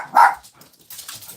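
A dog gives one sharp, loud bark up close, followed by a stretch of faint, scattered background noise.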